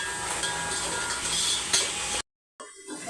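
Biryani masala paste frying and being stirred in oil for egg biryani, a close, steady sizzle with scraping, cut off by a brief silence before the hiss resumes.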